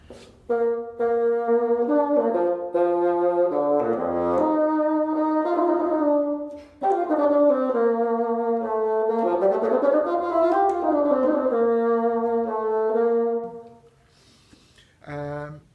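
A solo bassoon plays a flowing, lyrical concerto opening melody with clear sustained notes and quick runs, warm and close, ending with a brief pause and a short final note.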